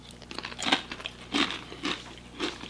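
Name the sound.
chip crunch while biting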